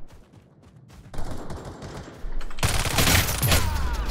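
Gunfire in the competitive shooter game Battle Teams 2, starting as quieter shots and then swelling into a loud, dense burst of rapid automatic fire and explosions that lasts to the end.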